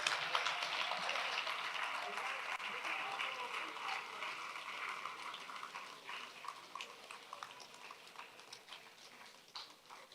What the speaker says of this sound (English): Please give him a big round of applause one more time.